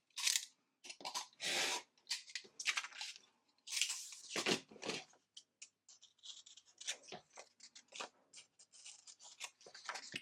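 Paper being cut with scissors for a Christmas mouse junk journal, a run of crisp, close snips and slicing strokes in irregular bursts with short pauses between, quiet and alone with no talking.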